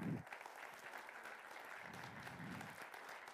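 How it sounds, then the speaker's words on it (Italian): Audience applause at a press conference for the Festival dell'Economia, a steady, moderately distant clapping that fills the room without pause and stays even in level throughout. "io volevo veramente chiedervi all'inizio un applauso"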